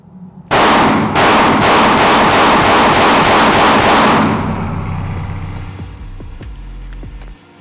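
Rapid string of about eight loud, sharp HK VP9CC pistol shots fired at a shooting range, evenly spaced and close, followed by a ringing decay into quiet.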